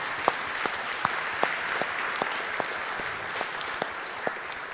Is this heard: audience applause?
yes